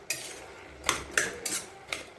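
A utensil scrapes and taps against a pan while breaking up fried kushi cooked with egg, a few sharp metallic clinks spaced irregularly over a quiet background.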